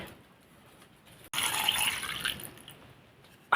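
Liquid, likely wine, is poured into a glass in a quiet spa-style setting, a soft brief splash and trickle lasting a couple of seconds after a short pause.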